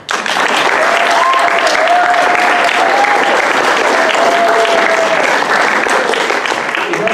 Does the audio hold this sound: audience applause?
yes